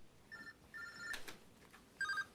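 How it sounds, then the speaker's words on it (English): A cell phone rings quietly in short electronic tone bursts, three brief chirping rings spaced across a couple of seconds, with no talk over them. "his cell phone rings"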